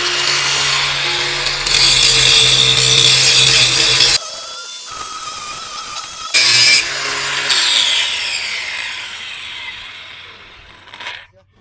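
A cordless APR AP22PRO brushless angle grinder with anti-kickback runs in loud bursts, its high whine starting and stopping and finally spinning down to silence.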